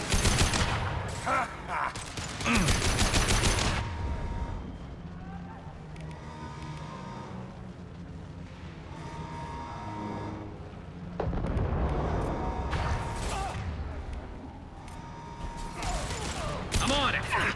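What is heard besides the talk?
impact shot gunfire in the video game Mass Effect 2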